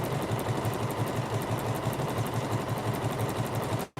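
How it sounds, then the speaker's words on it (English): Close and steady, a sewing machine works a small satin-stitch buttonhole, its needle beating a fast, even rhythmic pulse with a low motor drone, cutting off abruptly at the end. "what the machine is doing a small satin stitch all the way around the little hole that it's creating to reinforce it"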